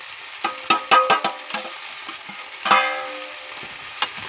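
Potatoes and cauliflower frying in oil are stirred with a spatula, making a run of sharp scraping clicks and taps over a soft, steady sizzle, close and fairly loud.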